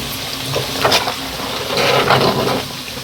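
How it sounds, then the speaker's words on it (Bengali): Fish frying in a pan gives a close, loud, continuous sizzle with crackling surges that swell and ease over a few seconds, with no voices. "দেখুন আম্মু একটু মাছ ভাজছে"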